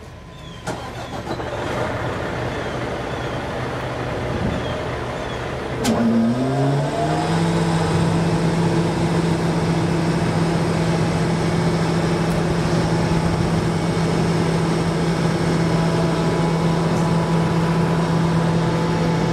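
A sewer vacuum truck's engine cranks and catches partway through, then settles into a steady, loud idle with a continuous low hum that runs to the end.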